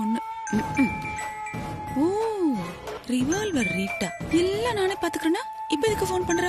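A phone ringtone from a Tamil TV serial plays as a warbling melodic tune in repeated rising and falling phrases, fairly loud and close, overlapping background music.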